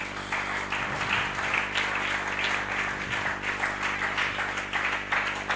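A church congregation applauds in a continuous, dense wash of clapping that stays steady and fairly loud throughout, with a few voices faintly mixed in.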